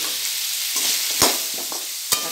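Tomatoes sauté in a pan for rava kichadi, a close, steady sizzle punctuated by two sharp spatula knocks as they are stirred.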